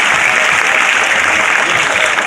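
Loud, dense applause from a mushaira audience for Manzar Bhopali, a sustained roar of many hands clapping at close range without a break.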